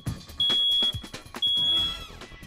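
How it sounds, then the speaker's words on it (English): Two shrill, piercing smoke alarm test beeps, each about half a second, sounding close amid some background clatter and noise. "push the button on your smoke alarm to make sure it's working properly"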